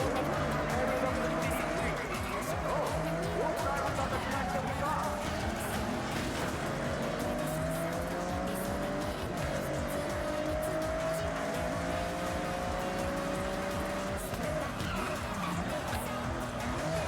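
A heavily cammed engine races in Forza Horizon 6, revving and shifting with choppy idle character and tire squeal, loud and continuous while a person talks over it.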